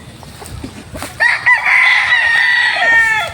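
A white Kelso gamefowl rooster crows loudly and close by, one long drawn-out crow after a few softer clucks and farmyard noises.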